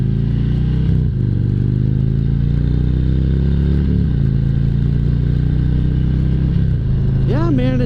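A 2022 Harley-Davidson Road Glide with Cobra exhaust pipes idles and revs nearby, a loud, throaty V-twin rumble that rises and falls in several blips, with a sharp rev near the end.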